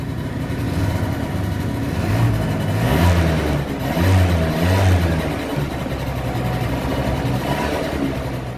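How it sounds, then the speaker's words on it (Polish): A scooter engine with about 3,265 km on it runs close by, a steady mid-pitched hum that swells in a couple of short revs before settling back to a constant drone, with no voices. "Siedem za ten dźwięk silnika."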